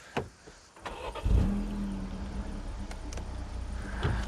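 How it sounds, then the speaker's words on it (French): A Peugeot 308 GTi engine cranks and catches, then settles into a steady idle rumble nearby, with a few clicks around it. "Faut que j'allume la voiture pour ça par contre"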